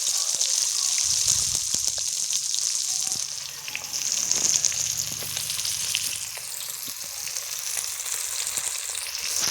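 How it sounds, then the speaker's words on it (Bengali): Spiced bhola fish fries in a pan over low heat with a loud, continuous sizzle and occasional crackles and utensil clatter. "ভালো করে মাছটা ভাজতে হবে।"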